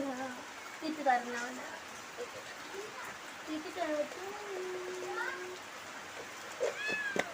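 A cat meows repeatedly in short, rising and falling calls, one long drawn-out cry in the middle, over a soft steady background hiss.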